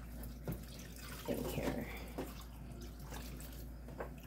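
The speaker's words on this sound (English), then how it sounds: "it's probably like 1/4 cup of vinegar that we are going to also pour" Vinegar, about a quarter cup, pours into a pot for dyeing yarn, a steady liquid splash and trickle running through the clip at moderate level with a faint voice briefly heard.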